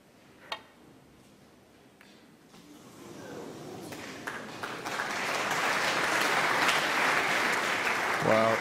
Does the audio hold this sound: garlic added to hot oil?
no